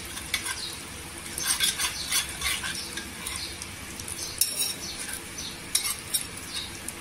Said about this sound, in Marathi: इथे बघा जिरं असं तरतरते.